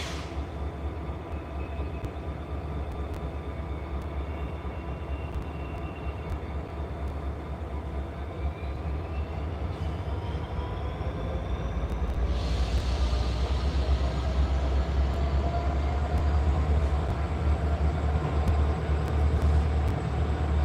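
A CSX freight locomotive rolls past with a continuous heavy rumble and engine drone that swells slightly louder over about twenty seconds, steady and fairly close, with no voices.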